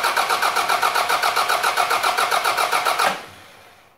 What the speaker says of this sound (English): we're going to energize the starter motor, crank the engine over